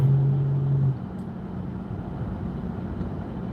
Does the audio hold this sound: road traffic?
yes